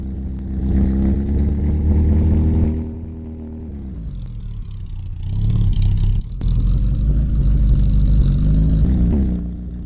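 Car engine revving with exhaust roar in the video game My Garage, a loud steady drone that dips briefly mid-clip then swells again, with no talking.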